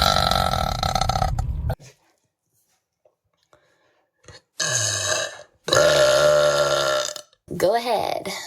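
A woman lets out loud, drawn-out burps, one long resonant belch, then a pause, then two more deep, croaking burps close to the mic.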